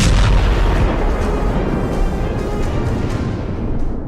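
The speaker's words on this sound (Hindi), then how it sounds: "ेंस्की और बाइडेन को भी समझ में नहीं आ रहा कि यूक्रेन पर रूस के खूंखार मिसाइल हमलों को कैसे रोकें।" Heavy booming explosions from missile strikes in Ukraine roll continuously through a loud, dense rumble that stays strong from start to finish.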